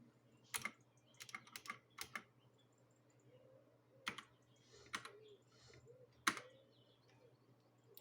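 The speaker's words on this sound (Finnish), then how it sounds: "Ja tämmönen Black Stormi langaton mekaaninen näppäimistö." Quiet, close keystrokes clatter on a wireless mechanical keyboard in irregular bursts of clicks with pauses between, over a faint steady hum.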